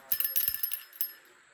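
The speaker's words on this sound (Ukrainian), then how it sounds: "Але тут дзвоники такі класні." Small bells on a handmade Christmas star jingle in a quick cluster of bright, close rings, fading after a second, with a voice speaking faintly alongside.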